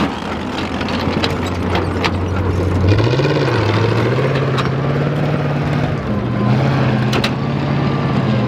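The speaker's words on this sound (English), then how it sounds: "See here the Axis forces making a very aggressive pull forward in the armoured vehicle there" An armoured vehicle's engine at a wartime battle reenactment drones loudly and steadily nearby, its pitch rising briefly as it pulls forward, with scattered sharp cracks of blank gunfire over it.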